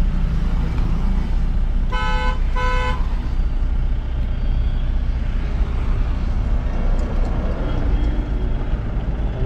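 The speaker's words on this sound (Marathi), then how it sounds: "आपण आहे केशवनगर मुंडव्याच्या ट्रॅफिकमध्ये, बघू शकता फुल जाम इथपर्यंत आहे" Car horns sound in a full traffic jam at Keshavnagar, Mundhwa, with a loud double honk against a steady roar of engines and traffic, and fainter toots further off.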